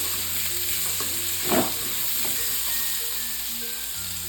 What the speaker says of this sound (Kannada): ಇದೆಲ್ಲ ಎಣ್ಣೆನಲ್ಲಿ ಚೆನ್ನಾಗಿ ಫ್ರೈ ಆಗಲಿ.